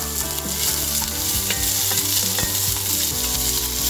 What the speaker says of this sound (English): The pot is already hot, so you'll hear this